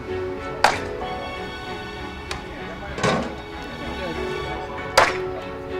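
Firewood being chopped with an axe in a village yard: three sharp, loud wooden cracks at uneven gaps of about two seconds and one lighter knock, heard close, with people talking around them.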